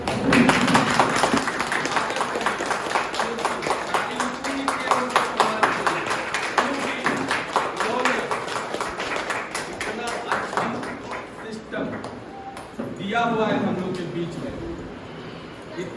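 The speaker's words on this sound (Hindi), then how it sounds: "मैं आग्रह करता हूं कि आप लोग खड़े होकर जोरदार ताली बजाएं" A seminar audience in Jharkhand claps loudly and steadily, dense rapid applause filling most of the stretch, fading near the end as a voice speaks over the tail.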